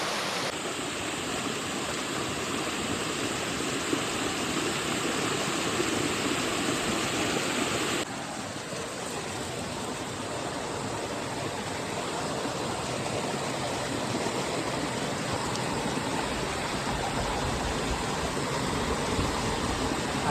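Stream water at a village creek flows steadily into a narrow channel built for catching fish, producing a continuous, soft rushing and trickling wash that holds even throughout.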